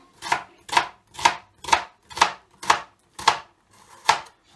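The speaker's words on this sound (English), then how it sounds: "put the root of the onion at the back because that's going to keep the onion together while you're chopping it" A knife finely chopping an onion in close cuts toward the root, in preparation for spaghetti bolognese; eight crisp, evenly spaced chops ring out close up at a steady rhythm, with no talking.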